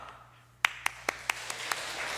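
A church congregation claps to welcome a missionary at a Sunday mission service: half a dozen sharp, evenly spaced hand claps, crisp and moderately near, with no talking over them.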